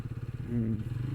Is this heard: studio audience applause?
no